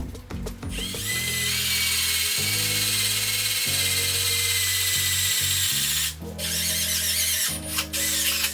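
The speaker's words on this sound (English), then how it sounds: "So now I'm going to drill through it into the bumper" A power drill bores through the bumper of a BMW E90 M Sport, a loud, close motor whine holding steady with shifting pitch, brief pauses, and a squeal as the bit bites.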